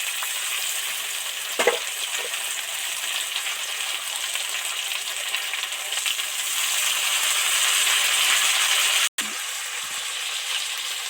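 Ginger and radhuni paste with ground spices frying in hot oil, a dense continuous sizzle that swells louder toward the end, with a few faint clinks and one abrupt break.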